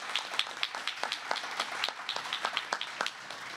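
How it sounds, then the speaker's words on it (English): A modest gathering at a ceremony welcoming sixteen new American citizens breaks into steady, fairly faint applause, many hands clapping at a brisk even pace for a few seconds. "Give yourselves a round of applause."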